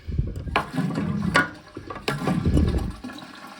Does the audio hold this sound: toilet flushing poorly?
yes